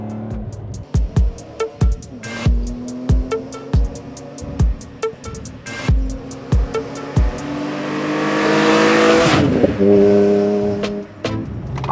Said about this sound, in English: this motor is actually known for having a very throaty and tin canny sound